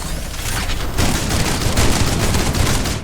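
Dense, loud shotgun gunfire in a first-person video game, blasts following close on one another in a continuous barrage with booming low end, no talking.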